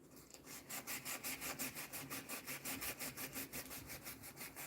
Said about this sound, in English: So sand them out.